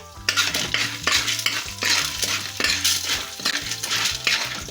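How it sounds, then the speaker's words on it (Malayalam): A spoon scrapes and stirs popcorn kernels with chili powder in a metal pan, repeated rhythmic clanks and rattling scrapes close up, with no talk. "ഇനി അതിനൊന്ന് നന്നായിട്ട് ഇളക്കണം മമ്മി"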